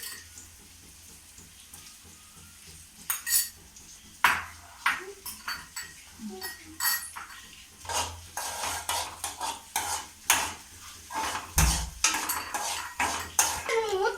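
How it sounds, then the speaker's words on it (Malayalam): Metal spoon stirring passion fruit pickle in a pan with sizzling oil, scraping and clinking against the pan in irregular bursts over a low frying hiss, with no voices. "ഒന്നോടെ നൈസായിട്ട് ഇളക്കാം."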